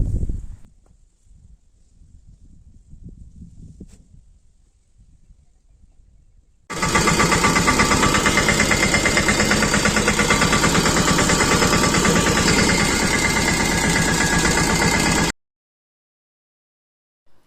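A tractor engine runs loud and steady for about nine seconds with a rapid, even chugging pulse, cutting off abruptly, after a quieter stretch of outdoor rustling on a farm during the wheat harvest.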